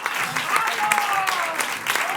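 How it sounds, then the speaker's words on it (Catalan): Loud audience applause fills a community arts centre during a local TV show event, a steady roar of clapping with voices and cheers mixed through it. "I un fort aplaudiment."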